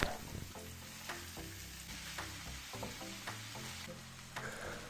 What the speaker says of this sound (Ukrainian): І додаємо яловичий фарш або будь-який інший, перемішуємо та трохи обсмажуємо.